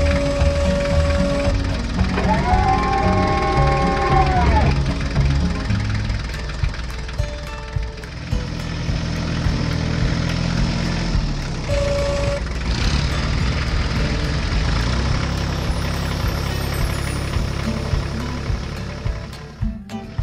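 Tractor engines rumble and knock steadily as the machines pull away, with a brief rising mechanical whine early on and constant heavy low-end drone.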